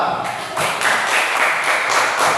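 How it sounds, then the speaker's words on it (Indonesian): Students in a classroom applaud a classmate named Dira, a loud, dense burst of many hands clapping close by, running steadily throughout. "Oke, silakan Dira, tepuk tangan Dira."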